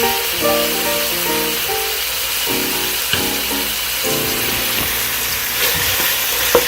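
Tomato paste sizzles and fries in a pot of family jollof rice, a steady broadband crackle with occasional stirring knocks, close and continuous, with background music tones layered underneath.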